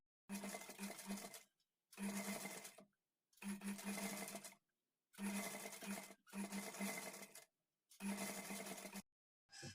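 A sewing machine stitches piping along a blouse neckline in six short bursts, each a close rattling whir of a second or so separated by silent pauses.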